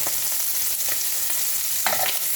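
Steak sears in a hot pan with a steady, close sizzle throughout, and a few brief scraping stirs poke through the crackle.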